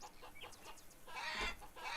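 Hens cluck in a game farmyard with a rooster nearby, short chattering calls that build into a louder burst of squawking, faint overall.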